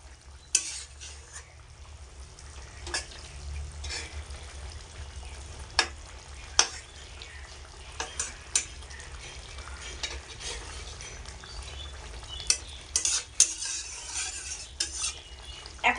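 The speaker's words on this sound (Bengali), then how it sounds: "ভাজা মাছ গ্রেভির মধ্যে একটু উল্টে নেব" Fried bhola fish turned and stirred in simmering gravy, a quiet bubbling broken by sharp clicks and scrapes of a utensil against the pan at irregular intervals.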